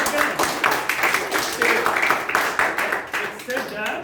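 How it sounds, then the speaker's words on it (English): A meeting audience at the Periyar YLP 2023–2024 session breaks into applause, a dense, steady patter of many hands clapping for about four seconds, with crowd voices murmuring underneath. "Give her a round of applause"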